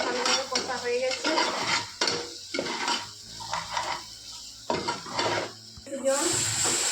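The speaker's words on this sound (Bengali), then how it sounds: "মশলাটা ভালোভাবে কষা হয়ে গেছে।" Bengali masala being stirred and fried in a pan before cauliflower goes in: the spatula scrapes in repeated strokes against the pan over a constant close sizzle.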